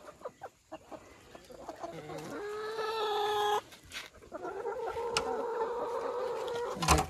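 Backyard farm chickens clucking at a rural homestead, a series of close hen clucks and longer drawn-out cackling calls with brief pauses between them and no talking.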